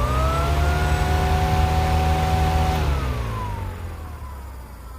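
A car radiator fan, wired straight to a battery, spins with a loud steady whirring hum, then winds down in pitch and fades away as it slows to a stop.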